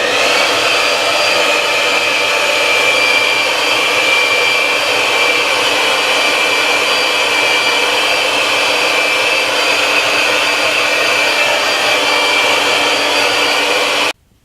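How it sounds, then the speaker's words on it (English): A hair dryer blows steadily at close range during a home haircut, with a constant high whine and rushing air, running without pause until it cuts off at the very end. "Then I'm gonna hit it with the hairdryer."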